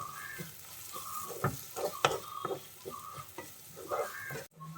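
Onions with crushed ginger and garlic frying for restaurant-style chicken masala, stirred repeatedly so a spoon scrapes and taps the pan in uneven bursts over a soft sizzle, close up, with no voices.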